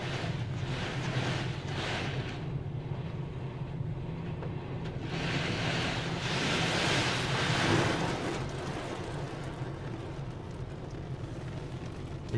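An automatic car wash sprays and scrubs a car in Wichita, Kansas, with rushing water and brushing noise surging and fading in broad washes around the vehicle.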